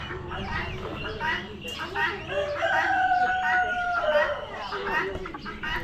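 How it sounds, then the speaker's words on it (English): Chickens and roosters at an Amish animal auction crow and cluck repeatedly, with long drawn-out cock-a-doodle-doo calls rising through the middle, while people talk nearby amid the barn's crowd noise. "More chickens."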